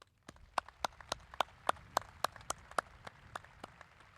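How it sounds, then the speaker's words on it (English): A few people clap at a high school commencement ceremony, sparse separate claps in a loose rhythm, fairly close and quiet, with no voices over them. "A round of applause, please."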